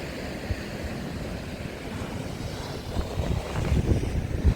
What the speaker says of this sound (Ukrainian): Вода підходить аж до цих склонів.